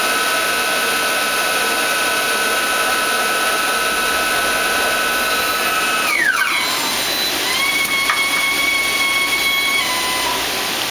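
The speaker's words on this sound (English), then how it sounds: "That noise is our air compressor in the background" An air compressor runs in the background of a machine shop beside a Star SR16 CNC lathe, a loud steady roar with whining tonal layers and a brief pitch sweep midway, continuing without pause.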